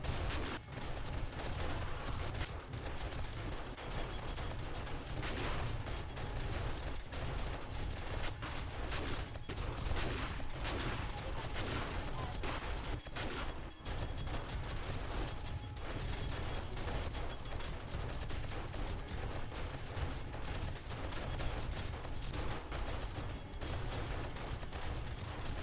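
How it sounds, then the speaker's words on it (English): Shotgun turrets fire relentlessly during a Wastelands horde night in 7 Days to Die, a dense, continuous barrage of overlapping blasts and mechanical clatter with no pause throughout. "now I hear the shotgun turrets going nuts"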